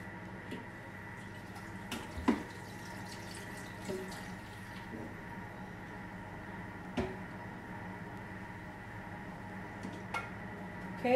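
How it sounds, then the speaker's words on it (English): Water trickles into a bowl in a kitchen while spaghetti meatball casserole is being made, a quiet steady flow with light knocks and clicks scattered throughout and no talking. "We are going to add in a bit of water to bleach the bowl"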